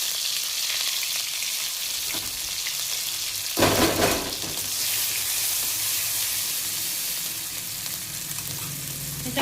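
Garlic and green chili fry in hot oil for a radish-leaf vegetable dish, a loud, steady sizzle that surges briefly partway through when something is added or stirred, then settles back into an even hiss.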